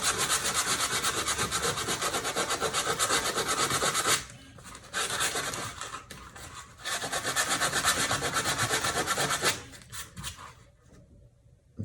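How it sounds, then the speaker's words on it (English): Sandpaper rubs rhythmically against a foam core shoe sole in close, dry, scratchy strokes, with a few short pauses and then lighter, intermittent passes toward the end; no one talks. "my main concern was sanding this part down"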